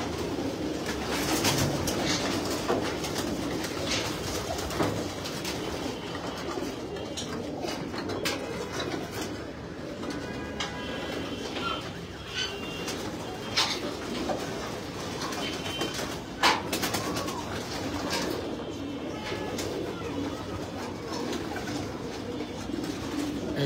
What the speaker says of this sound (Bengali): দুইটা কবুতরে ঠিক আছে